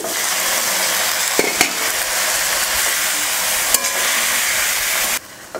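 Onions and tomatoes fry in a pan for sambar, making a continuous close sizzle with a few sharp clinks of stirring before the hiss cuts out near the end.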